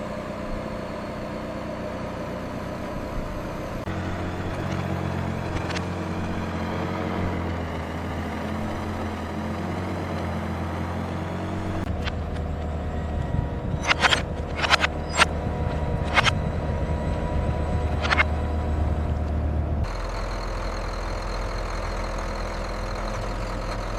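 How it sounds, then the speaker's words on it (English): RC-3, a huge three-wheeled machine, pulling an unenergized power cable slowly across a mountain ridge: a steady heavy engine drone with low rumble throughout and a few sharp metallic clanks toward the end, with no talk. "RC-3 pulled the unenergized power cable slowly across Kestrel Ridge."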